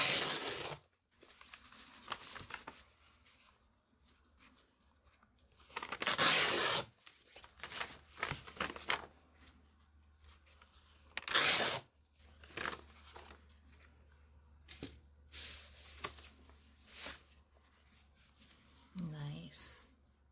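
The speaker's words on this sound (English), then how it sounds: "So I am going to first tear off these white edges." Gelli print paper having its white edges torn off by hand in a few quick, close ripping bursts, separated by quiet rustling and handling noises, with a person talking now and then between the tears.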